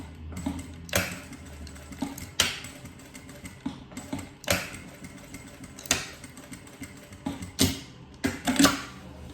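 Sewing machine running a short securing seam through the middle of a double zippered pencil case, heard as uneven bursts of clattering mechanical clicks and soft handling thumps, close but modest in level.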